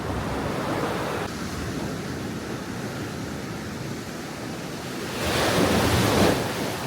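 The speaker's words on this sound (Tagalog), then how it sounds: "Grabe alon, ang ganda." Ocean waves roar continuously with a broad rushing wash, swelling louder near the end as a wave breaks close by, with wind noise mixed in.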